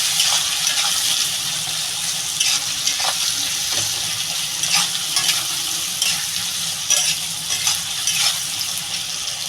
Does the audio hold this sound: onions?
yes